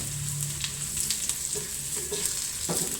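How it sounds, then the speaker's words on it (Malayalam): Chilies fry in hot oil for upma, giving a steady, close crackling sizzle with occasional small pops and stirring scrapes, with no voices. "മുളക് മൂക്കട്ടെ."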